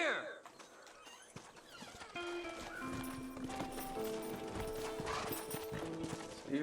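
Horse hooves clip-clop steadily in Red Dead Redemption alongside mechanical clicking and ratcheting, with a busy game soundtrack of music and effects layered throughout.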